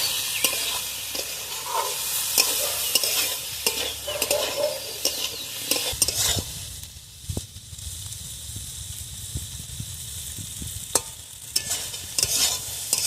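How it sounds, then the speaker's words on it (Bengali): Soybean curry sizzles and fries in a pan while a spoon stirs and scrapes through it, with a constant hiss broken by repeated sharp scraping clicks at close range. "সবিনটা আমি এইভাবে ভালোভাবে কষিয়ে নিয়েছি, অনেকক্ষণ ধরে কষিয়ে নিয়েছি"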